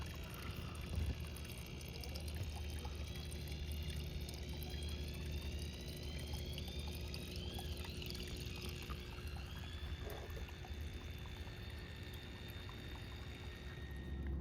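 Water runs steadily through a gutter sluice used for gold prospecting during a flood-gold cleanup, a continuous rushing pour heard close and alone for the whole stretch with no talk.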